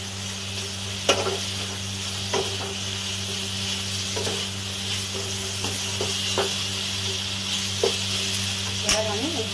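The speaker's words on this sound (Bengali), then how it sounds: "ঢেঁড়সগুলোর সঙ্গে আমি মশলাগুলো আর একটু কষে নেব।" Okra is stirred with a spicy mustard paste in a pan, with a steady sizzle under a low background hum and occasional knocks of a spoon against the pan.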